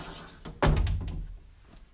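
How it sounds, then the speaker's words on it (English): Closet doors swing shut with one dull thunk and a brief rattle, close and fairly loud, then quiet. "Now I can grab all my stuff out of here, walk away, close my closet doors,"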